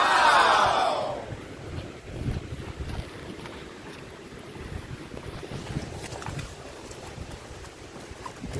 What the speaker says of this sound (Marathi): झळझळ झळझळ पाण्याचा आवाज येत आहे.